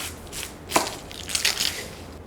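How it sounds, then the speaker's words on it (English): A knife dicing an onion on a cutting board, giving a few soft, close cuts and crisp slicing strokes, one sharper chop near the start, with no talk. "And now for dicing an onion."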